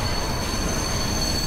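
Toy train running in the game Layers of Fear, a steady dense rattling roll with a thin high whine, constant and close throughout.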